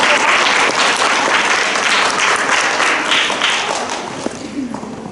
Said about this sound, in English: let's give our golden children a big round of applause